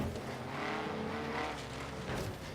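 An Alumicraft racer in Forza Horizon 3 drifts with its engine droning and tires scrubbing, a steady, fairly quiet roar that rises and falls slightly over a couple of seconds.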